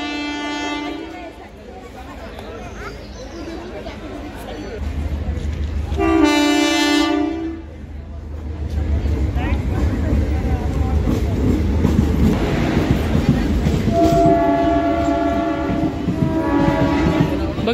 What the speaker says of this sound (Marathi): समोरून येते ट्रेन पाहू शकता.